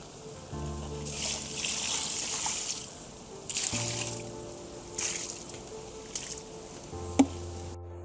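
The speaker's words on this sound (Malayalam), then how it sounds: "ഞാനിത് വെർമി കമ്പോസ്റ്റ് ഗോമൂത്രമായിട്ട് മിക്സ് ചെയ്തത് വാഴയ്ക്ക് ഒഴിച്ചു കൊടുക്കുവാണേ." Vermicompost mixed with cow urine poured onto a banana plant: a soft, steady trickle of liquid runs in several separate pours of a few seconds each, close up, with no one talking.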